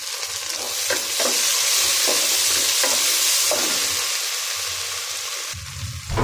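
Tomatoes and green chilies frying with browned onions in a pan, a loud close sizzle with repeated scraping strokes of a spatula, then a clatter near the end.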